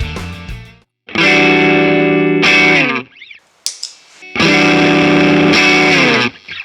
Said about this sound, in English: you can switch from a light gain to a much heavier distortion without touching your settings, just by pushing more signal into the pedal